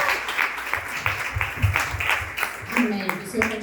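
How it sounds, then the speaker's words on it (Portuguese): A church congregation claps for birthday celebrants, a bright burst of hand clapping with audible individual claps, while voices speak and murmur underneath. "Uma salva de palmas aqui para os aniversariantes."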